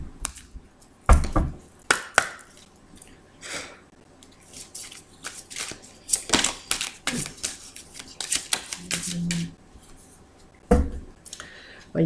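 A deck of tarot cards being cut and handled in a card reading, with close papery shuffles, slides and soft slaps coming in uneven bursts and a few quiet gaps.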